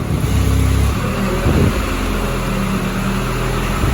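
A truck being manoeuvred into a parking spot, its engine giving a steady, close low rumble with a couple of brief revs rising and falling, no voices over it.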